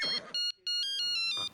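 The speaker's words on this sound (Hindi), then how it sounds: "फोन।" A phone ringtone plays in bright electronic beeping bursts, a short pulse, a brief gap, then a longer run of rapid tones, loud and close with no talk over it.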